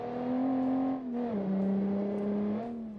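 A 1960s sports car's engine in a racing video game holds a steady tone, briefly dips as it shifts, then settles and climbs again, loud and continuous with no speech.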